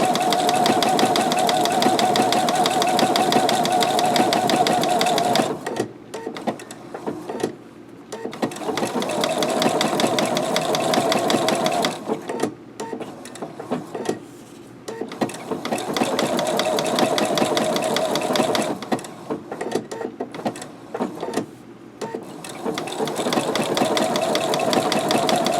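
Sewing machine stitching an applique, a close steady mechanical whir running in long bursts with short pauses between, stopping and starting several times.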